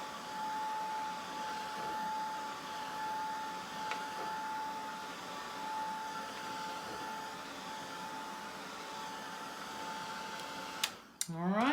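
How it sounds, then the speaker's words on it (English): A hair blow dryer on the cool setting runs steadily to dry chalk paste on a craft project. Its even whirring hiss carries a faint high whine and stays fairly quiet, then a brief clatter of handling comes at the end. "You can use your blow dryer on cool, or you could just let it air dry."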